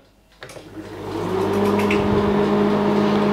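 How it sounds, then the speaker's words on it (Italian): A microwave oven starts up on an AllPowers R600 LiFePO4 power station, running at 160 watts: a click, then a steady humming drone that rises and holds, close and fairly loud. "La prova del microonde che è sempre quella un po' tragica, mettiamolo magari a 160 watt, un minutino, proviamo a partire"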